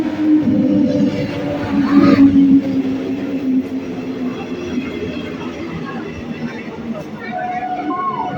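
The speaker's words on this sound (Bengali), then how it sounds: "ফাইনালি ট্রেন নাম্বার তেরো একশো তেরো হাজারদুয়ারি এক্সপ্রেস ব্যারাকপুর স্টেশনের প্ল্যাটফর্ম নাম্বার তিনে আসছে" The Hazarduari Express pulls into a platform at Barrackpore station with a deep low rumble and squealing wheels, loud and close, beneath a busy crowd of talking passengers.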